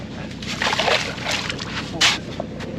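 Muddy, foul water sloshes and splashes around a UPS truck stuck in quicksand during a recovery, with irregular bursts of splashing under nearby voices.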